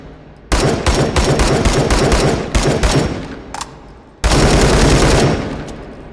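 Loud full-auto bursts from a 7.62x51 SCAR rifle in the H3VR virtual reality game, a long rapid stream of shots near the mic, a brief pause, then another sustained burst.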